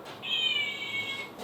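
A single drawn-out cat meow, clear and close, standing alone in a quiet room.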